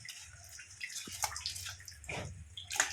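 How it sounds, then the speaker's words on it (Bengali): Fish being washed under running water, with faint trickling and splashing, a few drips and gurgles, and brief louder splashes up close. "মাছটাকে ভালো করে আমি ধুয়ে নিচ্ছি।"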